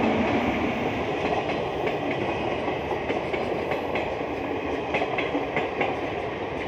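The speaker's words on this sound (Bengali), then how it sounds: "দেখো রেলের নিচে আছি, ট্রেন যাচ্ছে, দেখতে পাচ্ছেন।" A train passes overhead on a railway line as a listener stands beneath the tracks, producing a loud, continuous rumble with a faint rhythmic clickety-clack of wheels throughout.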